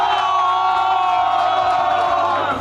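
A crowd at a live comedy show cheers and shouts loudly and continuously, a broad sustained roar with whoops rising over it.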